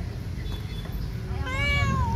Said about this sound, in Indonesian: bersuara meong